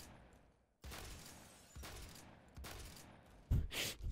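Shotgun fire in the video game Phantom Forces, a few spaced blasts with one louder final burst, heard quietly and without talk.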